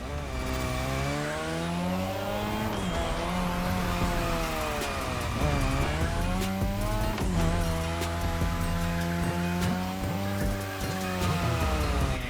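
A car drifts around a drift track in the racing game The Crew Motorfest, its engine revving up and down in loud, continuous sweeps mixed with sustained tire squeal, close and steady for the whole stretch, with no talking.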